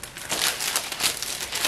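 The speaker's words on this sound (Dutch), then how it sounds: "Aan de zijkantjes doe ik eventjes wat folie" Plastic foil being wrapped around the sides of water-soaked floral foam for a flower arrangement, giving a close, continuous crinkling and rustling with no voices.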